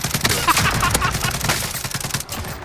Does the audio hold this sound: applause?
no